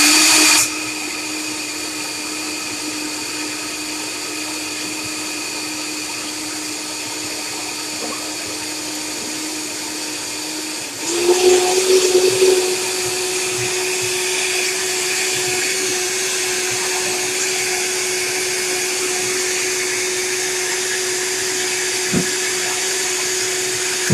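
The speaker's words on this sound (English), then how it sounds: "back in the blender, and we're just going to blend it again." Blender re-blending leftover coconut meat for a vegan Haitian plantain porridge, a steady motor whir that shifts to a louder, strained pitch midway, then settles into a continuous hum until the end.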